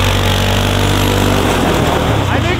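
A four-wheeler ATV with screws driven into its tires as studs runs across ice, its engine a steady, close drone throughout, with voices talking over it.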